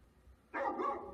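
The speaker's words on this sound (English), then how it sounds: "Barking." A dog in the video game Final Fantasy XV gives a single short, fairly loud bark over a quiet background.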